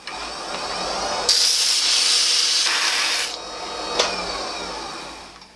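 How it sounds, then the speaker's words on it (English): A metal shaft being sanded by hand with ordinary sandpaper gives a loud, steady rasping scrape in long sustained strokes, easing briefly, then ending with one sharper scratch. "I have absolutely no idea if this is a good idea to sand this with normal sandpaper"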